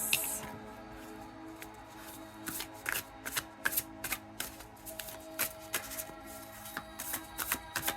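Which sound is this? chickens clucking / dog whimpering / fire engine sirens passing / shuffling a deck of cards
shuffling a deck of cards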